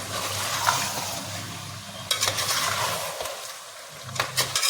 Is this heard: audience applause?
no